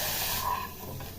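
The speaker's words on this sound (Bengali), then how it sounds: "দেখুন সবজিটা আমি কীরকম ভাজছি" Vegetables frying in a pan with salt for a sago khichuri, giving a steady, close broadband hiss and sizzle throughout with no talking.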